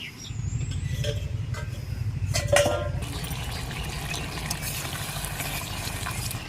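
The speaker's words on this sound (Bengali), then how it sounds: "এবারে ঢাকনাটা খুলে দেখে নেব" A metal lid lifts off a pot of simmering bottle gourd and potato curry with a brief clink, over a steady low bubbling and hiss from the stove that continues afterward.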